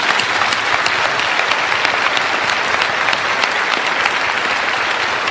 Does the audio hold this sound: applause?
yes